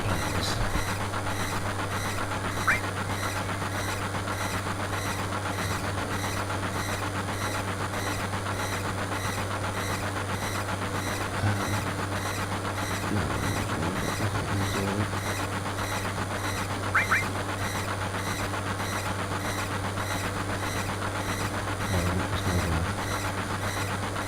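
A train rumbles steadily in Final Fantasy VII, a constant low droning roll with a faint rhythmic clatter that runs unbroken for over twenty seconds, loud and close, with occasional small clanks on top.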